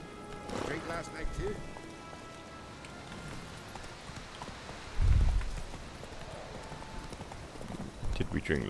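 Rhythmic clip-clop of horse hooves in the video game The Witcher, with a rain-like patter, plus a low thud midway and speech in the mix.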